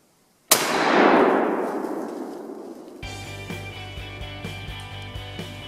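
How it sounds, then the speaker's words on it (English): A single loud rifle shot at a mature doe standing broadside about 25 yards away on a New York deer hunt, sharp onset with a long decaying rumble, followed by steady background noise. "All I gotta do now is make the shot."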